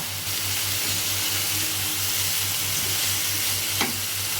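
Steady, close hiss of garam masala paste frying in a pan, with a low rhythmic hum pulsing underneath and one short scrape near the end.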